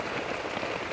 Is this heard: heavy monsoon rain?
yes